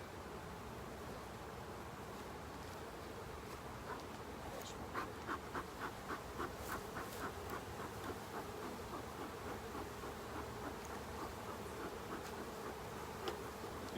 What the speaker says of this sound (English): This is a good 10 frames of bees down below.